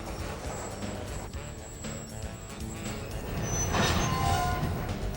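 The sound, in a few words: GP38 locomotive freight train moving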